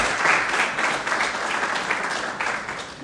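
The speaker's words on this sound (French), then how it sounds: "On peut même applaudir Marine et Pierre Albon qui se sont mariés samedi dernier et qui sont là aujourd'hui" Steady applause from a church audience honoring a newly married couple, dense and sustained clapping filling the room for about three seconds at moderate loudness without a break.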